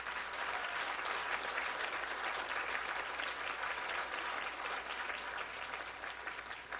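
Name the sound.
applause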